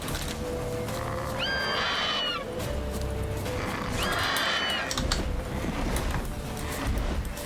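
A horse in The Witcher 3 video game neighs twice, two loud rising-and-falling whinnies a couple of seconds apart, over steady game ambience with no voices.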